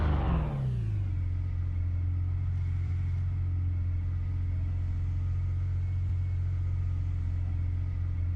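A race car engine in the rFactor 2 racing game fades in from a brief rev and drops to a steady, deep idle that holds unchanged and close throughout.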